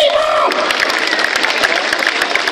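Audience applause at an outdoor evening event in Bojano during the 'Notte Gialla', dense clapping and crowd noise filling the whole stretch at close range, with a brief sustained tone fading out at the start.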